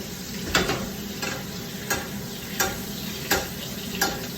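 Sea bass fries in butter in a pan with lemon juice. A continuous soft sizzle is broken by several sharp scraping or stirring strokes spaced at roughly regular intervals.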